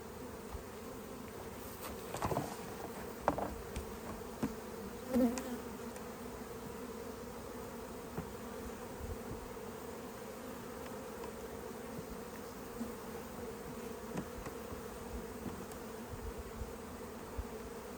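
Steady, droning hum of many honey bees buzzing close by around a hive, continuous throughout with a few louder swells as individual bees pass near.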